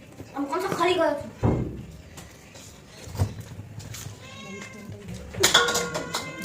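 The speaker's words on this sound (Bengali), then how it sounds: "বিড়াল তো ডেলি জ্বালাচ্ছে, দেখো টেবিলের তলে বিড়াল।" A cat meows a few times amid people talking nearby and light kitchen clatter.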